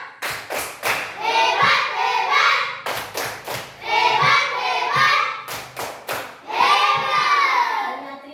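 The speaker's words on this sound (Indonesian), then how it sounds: "Mari kita kasih dulu tepuk hebat kepada kelompok ceria." Children in a classroom perform a rhythmic 'tepuk hebat' clap, three rounds of sharp patterned claps each followed by a burst of loud chanting, close and energetic.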